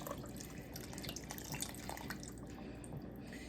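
Chicken stock pours into a cooking pot in a steady, soft liquid stream with faint splashing, quiet and continuous.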